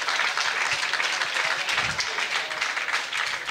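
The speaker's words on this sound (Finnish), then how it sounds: "Siitä vielä aplodit Emil Kurhelalle" Crowd applause at a Finnish mixed martial arts championship bout, steady dense clapping with scattered cheers, sustained throughout at fairly even loudness.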